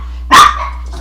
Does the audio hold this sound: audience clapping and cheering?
no